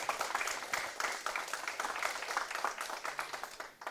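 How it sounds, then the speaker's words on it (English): A school debate audience claps for a speaker, a steady round of applause at moderate distance that thins out toward the end. "Please give Alana a round of applause."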